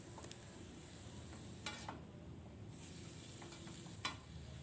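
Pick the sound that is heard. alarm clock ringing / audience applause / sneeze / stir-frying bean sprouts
stir-frying bean sprouts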